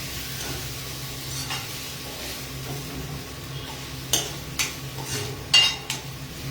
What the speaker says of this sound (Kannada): ಫ್ರೈ ಮಾಡ್ಕೊಬೇಕು. ಬೆಳ್ಳುಳ್ಳಿ ಹಾಕಿರೋದ್ರಿಂದ ಪರಿಮಳ ತುಂಬಾ ಚೆನ್ನಾಗಿರುತ್ತೆ.